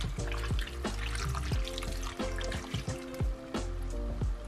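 Starchy pasta water poured from a pan into a pan of sauce along with cooked pasta, giving a steady, close splashing and trickling flow with small clinks throughout and no talking.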